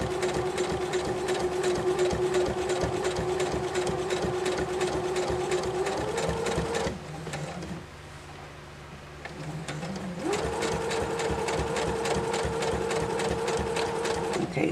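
A sewing machine quilting through a quilt block, running steadily with a fast mechanical whir. It pauses for about three seconds near the middle, then resumes at the same speed, close and loud.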